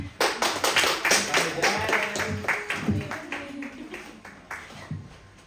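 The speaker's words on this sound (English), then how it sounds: "Let's clap our hands to the Lord" A church congregation claps hands together in a steady rhythmic beat, close and lively, with voices singing or talking underneath.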